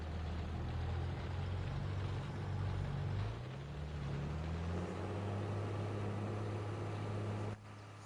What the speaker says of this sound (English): I wanna hear this old tractor scream.